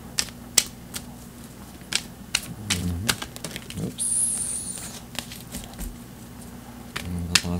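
Tarot cards are shuffled by hand in quick bursts of crisp, close clicks and flutters, with brief pauses between riffles and a low room hum underneath.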